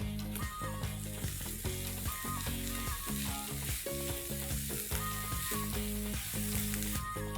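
Steady, dense sizzling of chopped onions frying with spice paste in a pan, continuous and close, with music playing throughout.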